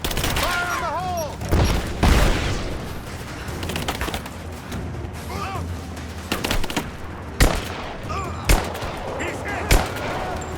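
Gunfire in the video game Rise of the Tomb Raider: scattered single shots and rattling bursts, with several loud sharp cracks toward the end, while voices shout in the middle of the firefight.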